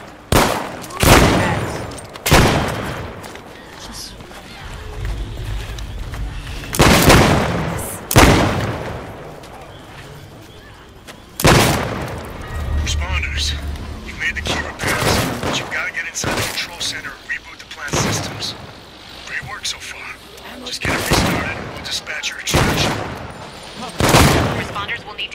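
Gunfire in the zombie survival game No More Room in Hell 2 rings out in loud bursts and single shots, some booming, spread across the stretch with pauses between, while players talk over it.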